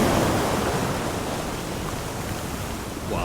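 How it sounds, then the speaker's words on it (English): Big storm waves on the St. Lawrence on Quebec's rugged north coast during a North Atlantic storm, a steady loud roar of surf washing in continuously with no voices. "I've never seen waves this big on the St. Lawrence"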